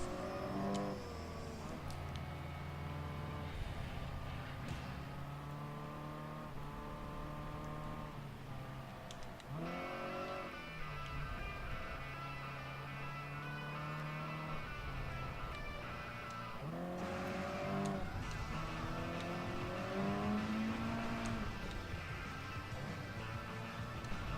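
An Acura NSX race car engine in Gran Turismo Sport, revving high and dropping in pitch through repeated downshifts, a steady close engine drone with several rising and falling sweeps and no talk.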